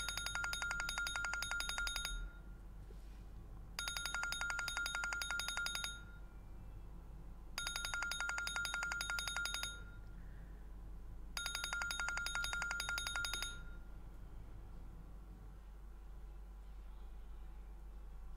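A phone rings in a music video, sounding four bright, trilling ring bursts of about two seconds each with short gaps between them, over a quiet low hum and no speech.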